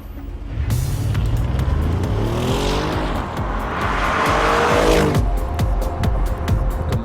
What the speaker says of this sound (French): la RS7 se fait entendre en pleine accélération